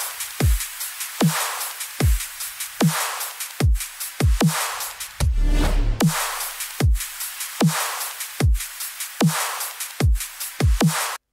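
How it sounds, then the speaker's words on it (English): Bright white-noise layers sit over the drums of a melodic dubstep drop, a hissing wash between repeated kick and snare hits, with a short low rumbling fill partway through. "Here are some white noises."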